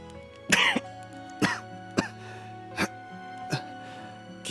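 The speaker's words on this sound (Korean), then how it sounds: "기침이 자꾸 나서 참말로 큰일이다" Several separate coughs, short and harsh, spaced about a second apart, close to the listener over a quiet background hum.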